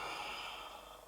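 A slow inhalation during a gentle gymnastics stretching session, soft steady airflow filling the short moment alone without talk.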